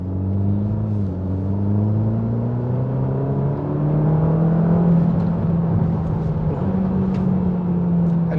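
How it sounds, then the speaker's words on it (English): A Ferrari Roma engine pulls hard under rapid acceleration, a steady rising drone that climbs in pitch with one brief dip, heard from inside the car with no talking. "Even though that was quite rapid acceleration, it still felt safe"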